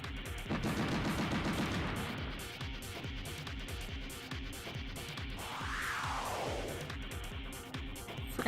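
A rice cooker monster in the Metal Saga video game fires its machine gun, a steady rapid rattle of repeated shots running throughout alongside game music and effects, including a rising swoop midway.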